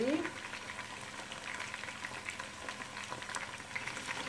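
Chicken kabsa with garlic and loomi (dried lime) simmers in a pot while being stirred gently, giving a continuous soft bubbling sizzle with faint scraping throughout.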